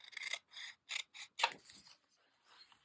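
Scissors snip the corner off a card in a quick series of close, crisp cuts, about six short bursts followed by faint rustling as the blades close.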